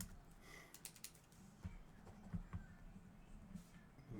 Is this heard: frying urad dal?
no